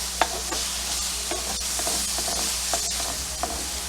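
Mushrooms sautéing in a pan over medium heat, with a continuous close sizzle and occasional soft clicks of a utensil moving them around, no voices.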